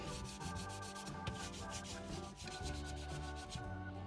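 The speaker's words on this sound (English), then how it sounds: "I need to wipe it down as I rub it" Steady, close rubbing and wiping on a painted Kyosho MP5 RC car bodyshell, a continuous scratchy sanding-like friction sound running throughout without pause.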